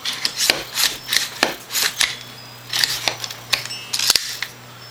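An emptied rifle bolt is cycled by hand after a buffer spring is swapped for a silent capture spring, producing a quick series of crisp, close metallic clacks and sliding rasps in an irregular rhythm.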